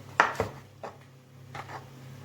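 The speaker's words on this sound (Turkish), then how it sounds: "Ahmet'ten domates kesme teknikleri bak bak bak." Tomatoes being cut on a board in a kitchen, a few soft knife knocks in an uneven rhythm, close but quiet over a low background hum.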